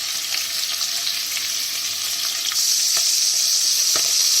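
Mtewem dough for an Algerian almond dish fries in hot oil, producing a loud, dense, steady sizzle with faint crackles, close up and without talk.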